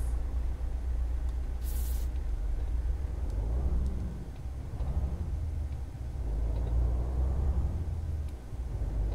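A Mercedes-Benz Actros truck in Euro Truck Simulator 2 rumbles with a low, steady engine drone, rising and falling a few times with gear changes, plus a short hiss of air near the start.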